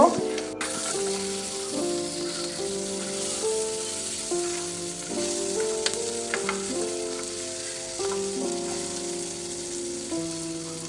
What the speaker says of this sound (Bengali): আমার বেগুন ভাজাটা প্রায় কমপ্লিট হয়ে গেছে আর একটুখানি নেড়ে চেড়ে আরেক পাশ লাল লাল করে ভেজে নেব